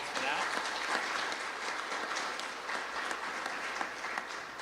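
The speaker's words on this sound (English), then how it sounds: "So if we could please give a round of applause for that" Conference audience applauding steadily and fairly loudly throughout, a dense wash of clapping from a seated crowd with no break.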